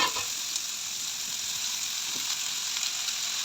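Pinucci vegetables frying in oil with a single garlic clove, a bright continuous sizzle that stays even and close throughout, with only faint soft knocks underneath.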